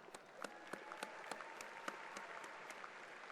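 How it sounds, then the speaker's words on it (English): Faint, distant applause from the audience at a college graduation ceremony, with scattered individual claps standing out against a quiet, reverberant hall. "I think that deserves another round of applause."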